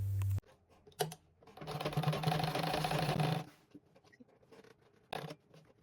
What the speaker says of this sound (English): I'll just fold it inward and continue sewing on the straight edges down to the end.